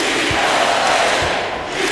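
A loud, dense arena crowd cheers and roars in an NBA 2K26 basketball game, a continuous wash of noise filling the whole moment with no break.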